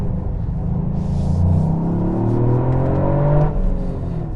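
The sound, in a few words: Toyota GR Yaris 1.6-litre three-cylinder engine revving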